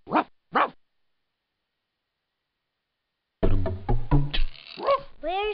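Ruff, a cartoon dog in the Ruff's Bone video game, gives two short barks, then after a silence comes a longer run of yips and barking sounds, close and clear.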